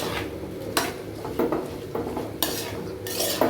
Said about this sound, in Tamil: ரைஸ் போட்டுட்டு மல்லித்தலையும் புதினாவையும் கூட போட்டு நல்லா மிக்ஸ் பண்ணிக்கலாம்.